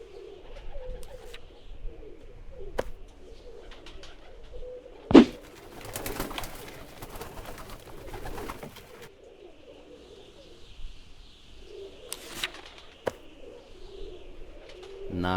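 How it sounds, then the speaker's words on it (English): Pigeons coo in the point-and-click adventure game Randal's Monday, soft repeated low calls over a quiet ambient bed, with a brief louder clatter midway and further faint cooing later. "Those pigeons look hungry and they're looking at me funny."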